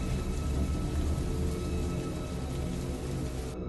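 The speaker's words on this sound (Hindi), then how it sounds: "बाहर बारिश लगातार बरस रही थी।" Steady rain falls without pause, a dense hissing patter that stays even throughout, moderately quiet, with no talking.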